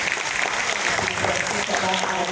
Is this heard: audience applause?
yes